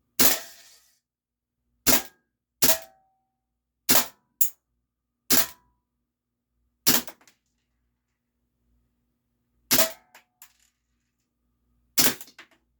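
A Luger P08 or P38 CO2 air pistol fires lead BBs in about ten sharp, close single cracks spaced a second or two apart, with occasional faint metallic ticks after some shots and silence between.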